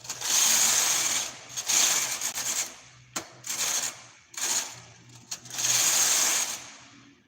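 A knitting machine works a two-colour beanie, its carriage swishing back and forth in long, loud whirring passes broken by brief sharp clicks at the turns, close by with no talk.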